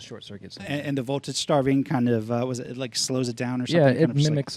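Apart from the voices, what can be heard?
None of the usual background noises is heard.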